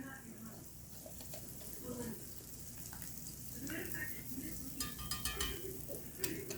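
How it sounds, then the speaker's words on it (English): A cast iron skillet sizzles and crackles steadily at low volume, with soft clinks and kitchen handling noises over the frying. "I don't know if you can hear that sizzling."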